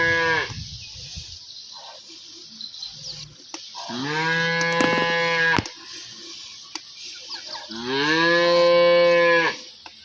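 A cow on a dairy farm during milking moos twice, each call long and loud, with quiet barn sounds between.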